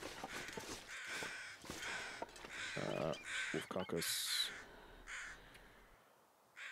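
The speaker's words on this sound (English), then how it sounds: "where the crows are." Crows caw in harsh, repeated bursts in the wilderness survival game The Long Dark, several calls spread across the scene, with someone speaking briefly between them.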